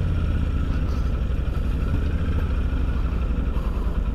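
A motorcycle engine idles and rumbles steadily while crawling at walking pace in Wesel traffic, a close, continuous low chugging with a little clatter and no speech.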